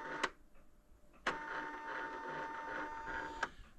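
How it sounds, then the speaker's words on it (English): An old clocking-in machine whirs steadily after being switched on, with sharp clicks or clunks at the start, partway through and near the end, faint and close by. "That's the other clocking in machine that we have."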